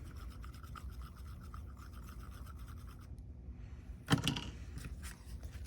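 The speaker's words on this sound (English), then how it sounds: "palette knife, and I'll just mix them a little bit" A palette knife mixes paint on a surface, making continuous soft, raspy scraping strokes at close range, with a brief pause and then a sharper scrape near the end.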